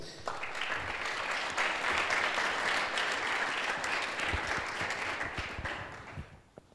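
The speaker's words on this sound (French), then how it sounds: "Mon deuxième invité, c'est Laurent Caillé, que je vais vous demander d'applaudir, qui est juste devant" Audience applause for a guest at a business conference, a dense, steady round of clapping from a full room that holds for several seconds and then tapers off near the end.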